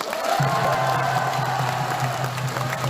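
A large crowd at a Our Republican Party political rally applauds the candidates. The applause is a dense, steady wash that continues evenly throughout.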